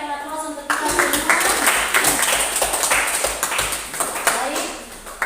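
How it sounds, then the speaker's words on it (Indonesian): A classroom of students clapping together, a dense burst of applause that rolls on steadily and fades slightly toward the end, close and fairly loud. "berikan aplaus untuk kita semua"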